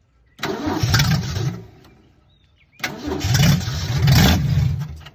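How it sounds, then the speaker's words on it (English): A rebuilt 1965 Ford Mustang 200 inline-six cranks and catches twice, each start rising into a loud rough idle with a brief lull between the two bursts, heard up close with no talking. "Try to start it now."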